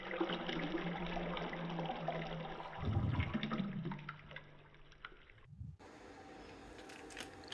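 Four cups of water poured into a saucepan for a pak choy and enoki mushroom soup, a steady close trickle with a brief heavier splash, then a quieter stretch.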